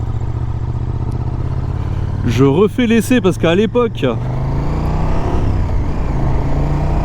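A 2023 KTM 1290 Super Duke R (third generation) ridden on country roads in Vendée drones with a steady, low engine note from start to end, while someone speaks briefly over it in the middle.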